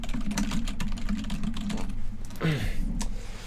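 Typing on an old membrane keyboard: a quick run of soft, muffled key presses close to the microphone, with a brief voice sound near the end.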